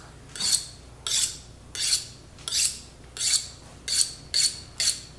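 A kitchen knife is drawn across a whetstone in eight evenly spaced, close scraping strokes, each a bright rasping swish with a faint metallic ring, with no talking.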